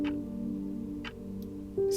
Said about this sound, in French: Et ce tic-tac qui se fait entendre.